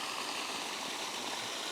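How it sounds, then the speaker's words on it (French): River water flowing in Sicily, a steady broad rushing and trickling wash heard close and evenly throughout, with no voices. "C'est la deuxième rivière que je vois depuis hier."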